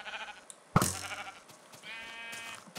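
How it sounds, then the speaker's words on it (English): Sheep bleat in Minecraft, a short wavering in-game call heard clearly after a sharp hit sound, with faint game noises around it. "I'm going to kill a sheep"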